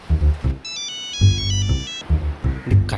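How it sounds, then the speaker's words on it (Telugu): A mobile phone ringtone plays a bright repeating electronic melody in short bursts, with a voice talking underneath. "నీకే ఫోన్ చేస్తున్నట్టున్నాడు."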